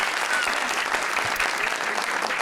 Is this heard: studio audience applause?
yes